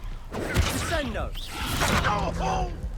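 A Descendo spell cast in Hogwarts Legacy, heard as a swooshing magical burst with a thump and a crackle amid busy combat effects, while a voice shouts over the action.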